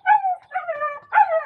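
A small dog gives three high, whiny yips in quick succession, close by, with brief gaps between them.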